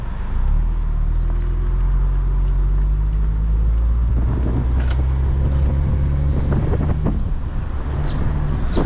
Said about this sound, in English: now driving the 2008 Mercedes SLK200